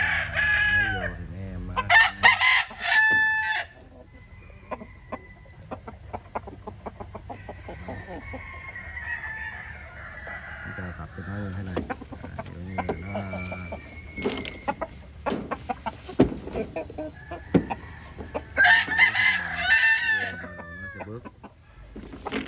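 Fighting roosters in a running cage crow loudly several times and cluck between crows, close and lively, with scattered rustling and a voice now and then.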